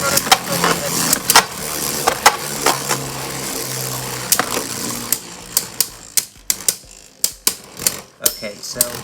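A Beyblade Zest Achilles top battling in a plastic stadium, a loud whirring spin with sharp repeated clacks of collisions that grow more spaced out as it slows, with a voice talking over it.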